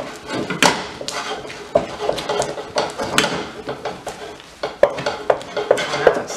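A utensil beats plantain foufou fast in a pot, with quick scraping strokes and frequent sharp knocks against the pot's sides.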